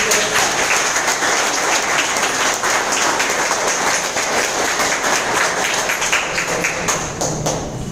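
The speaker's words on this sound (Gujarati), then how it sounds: "બંને માટે જોરદાર તાળી" An indoor audience at a business seminar claps steadily, a dense, continuous patter of many hands that stays fairly loud throughout with no voices over it.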